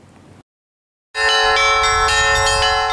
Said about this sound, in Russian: Под звон колоколов с благодарственными молитвами за благословение от Матери Божьей процессия направилась к Свято-Успенскому монастырю.